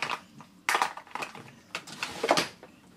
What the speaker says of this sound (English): sitting licking his feet, which is what he seems to do about 23 hours of the day